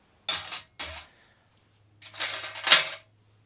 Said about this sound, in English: I've got noisy keys on a metal table.